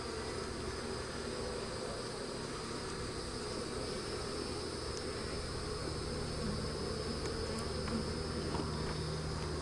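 A honey bee colony on food and pollen, newly moved from a two-frame hive and being robbed, fills the air with a steady, dense buzzing from many bees close by that continues without pause.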